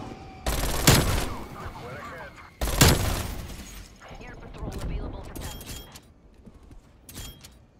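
A strafe-run airstrike in Black Ops Cold War hits as two loud, heavy bursts of rapid gunfire with crashing impacts, followed by scattered shots and debris, while a player talks over the action.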